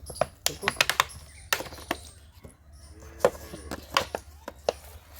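Potting soil for lotus tubers is mixed with vermicompost and bone meal, giving close, irregular gritty crunches and sharp little clicks with short pauses between.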